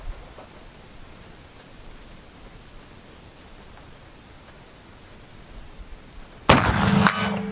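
A single sharp rifle shot fired offhand at a 100-yard target breaks out of quiet outdoor ambience near the end, loud and close, followed by a short decaying rumble.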